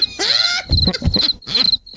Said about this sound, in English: What's with the crickets?